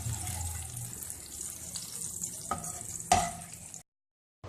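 Minced meat fries in oil in a pan, a steady sizzle with a few stirring scrapes and a clack near the end before it cuts to silence.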